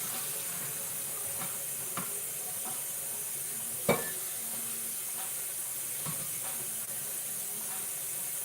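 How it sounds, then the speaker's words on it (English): Cold tap water runs steadily as cooked noodles are rinsed in a kitchen sink, a continuous even hiss with a few faint clinks and one brief knock midway. "And I'm going to run it under cold water."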